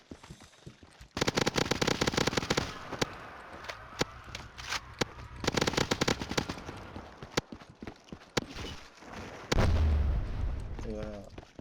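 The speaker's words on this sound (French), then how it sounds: "quand je glisse c'est des explosions." Explosions go off each time a character slides in a Simpsons video game, mixed with dense gunfire-like crackles and booms. The bursts are loud and repeated, with a heavy low thump near the end.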